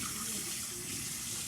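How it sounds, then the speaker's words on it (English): Steady running water from a tap splashing into a basin, a constant hiss with no pauses. "I'm gonna go ahead and wash this out."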